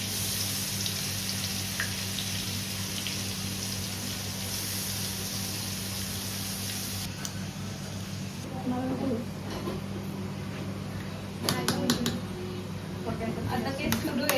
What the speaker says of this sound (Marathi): आता कांदा टाकणार आहे.